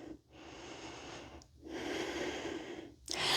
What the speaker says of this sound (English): Keep breathing deeply here,